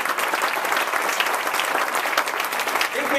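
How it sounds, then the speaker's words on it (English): An audience at a law school event applauds two guests, a dense, continuous roar of clapping from many hands that holds at an even level the whole time, with no clear talk. "let's please give John Raley and Michael Morton one final round of applause"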